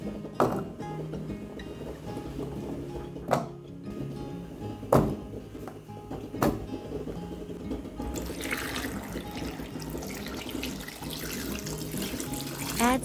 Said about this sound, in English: Add salt and water,